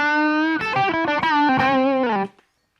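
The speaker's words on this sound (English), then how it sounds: "And then Super Overdrive on with the gain backed off." A single-note electric guitar phrase runs through a Boss Super Overdrive pedal with the gain backed off, the mildly driven notes sliding and sustaining loudly before stopping abruptly at the end.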